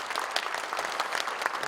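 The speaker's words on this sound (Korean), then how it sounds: "크게 박수 주시기 바랍니다" A church congregation at a Korea Evangelical Holiness Church elder ordination service applauds in a brief, steady, dense wash of clapping.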